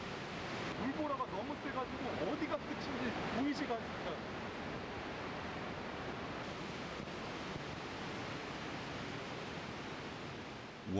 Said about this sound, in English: Water is pounding down harder from the sudden downpour of rain.